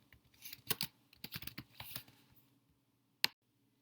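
Fingers typing on a computer keyboard, a quick close run of light plastic key clicks for about two seconds, then silence and one final sharper keystroke, quiet and alone.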